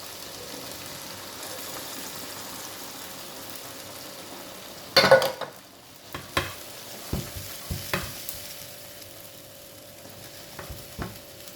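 Soft bubbling and simmering of cod and peas in a pan, with a few sharp clinks and stirring knocks partway through; steady low cooking noise throughout.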